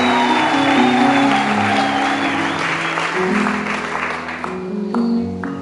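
A church congregation in Rwanda claps loudly and steadily, with a sustained musical tone ringing underneath, gradually easing off.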